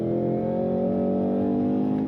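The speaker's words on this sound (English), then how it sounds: "The noise of that V8, the wide open throttle," The supercharged V8 of a 2026 Cadillac CT5-V Blackwing with automatic transmission roars continuously at wide open throttle, a deep, steady droning growl heard from inside the car.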